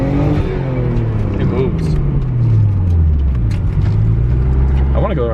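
A boosted Nissan Skyline's engine pulls hard, its drone rising and falling in pitch close inside the cabin, with people talking over it.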